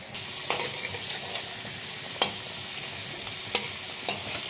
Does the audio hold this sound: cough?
no